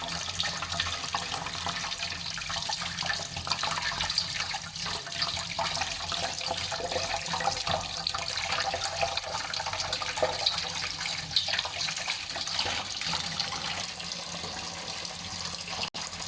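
Water runs steadily from a tap, splashing into a sink while fish is washed, with continuous hiss and gurgle, close up and without any voices.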